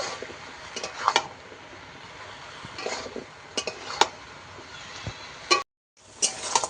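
Spices with chilli powder and oil being stirred and sautéed together with fish in a pan, soft steady frying hiss broken by scraping clinks of a spatula against metal, then a brief silence and more stirring.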